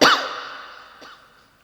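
A sharp, close cough bursts out at the start, with a second, fainter cough about a second later as the sound tails off, heard during a religious talk.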